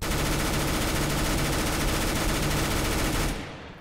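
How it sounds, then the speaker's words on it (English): P90 submachine gun firing in Counter-Strike: Global Offensive on the Dust2 map, a loud, continuous rapid-fire burst lasting a few seconds before cutting off, with no talk. "If you see them, you can just keep shooting and going around."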